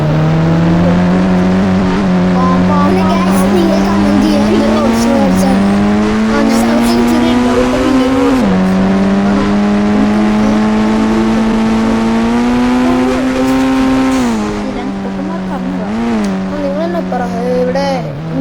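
A Lamborghini's engine in the mobile game Indian Bike Driving roars loud and close, its pitch climbing and then dropping at several gear shifts, with a person talking over it.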